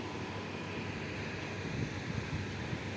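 Steady, roaring wind blows continuously, a broad rushing noise with low rumble and no voices.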